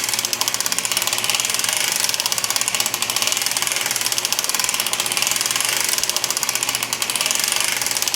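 An Erlbacher Gearhart knitting machine cranked to start ribbing gives a continuous, fast, even mechanical clatter, with repeated ratcheting clicks close by and no pauses.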